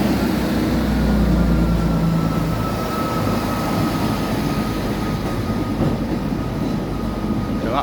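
A train runs along a railway track at Barmouth, a loud continuous rumble and roar with a faint high whine holding steady throughout.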